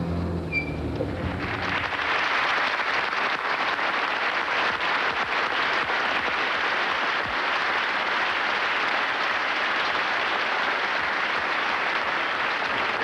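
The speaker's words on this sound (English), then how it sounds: "Never heard that sound of a crowd before." A large crowd bursts into sustained applause and cheering, a dense, loud wall of clapping that starts abruptly and continues steadily throughout.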